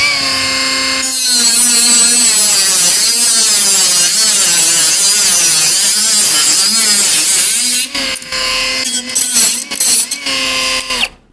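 A small Heimerdinger LB201 mini angle grinder whines loudly as it cuts through plastic, the pitch wavering under load, then several short bursts as it revs and stops.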